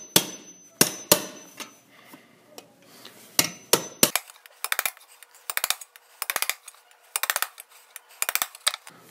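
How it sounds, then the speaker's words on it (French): Hammer striking a nail to punch holes in a metal can while making a lamp base: a series of sharp metallic taps, single blows at first, then quick bursts of several hits in a row, close and fairly loud. "l'autre élève va venir percer avec le marteau et le clou"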